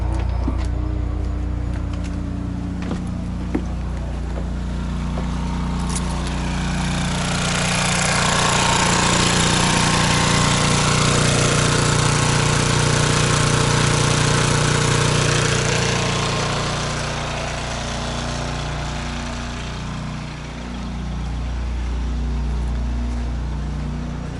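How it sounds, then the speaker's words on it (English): A generator powering a heat pump on a shuttle bus conversion: a loud, steady mechanical drone with a low engine hum and a broad rushing whir that swells and eases slightly, running alone and close throughout. "It appears to be running off the generator though"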